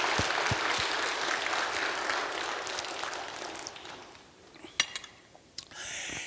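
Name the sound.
applause for the special music singers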